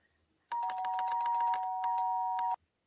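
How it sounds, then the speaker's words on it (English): Doorbell rung impatiently, a rapid run of repeated ding-dong chimes lasting about two seconds, clear and alone against silence. "Here's a ding dong, impatient, multi-fast."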